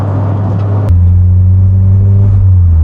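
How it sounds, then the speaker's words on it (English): A turbocharged SW20 Toyota MR2 engine roars loudly and steadily close by, a deep throbbing drone that shifts pitch midway as it pulls harder. "this is also a turbo car, so it's not really linear power"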